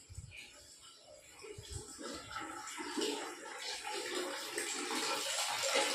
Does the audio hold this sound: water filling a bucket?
yes